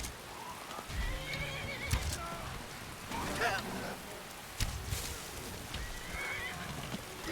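A horse whinnies a few times amid a rainy, noisy Skyrim Special Edition soundscape, with occasional hoof clops and muffled voices in the background.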